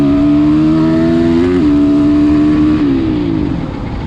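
A 2023 SSR Motorsports SR250 dirt bike fitted with a Lectron carburetor revs loudly and close, its engine holding a steady high pitch, then dropping and easing off near the end.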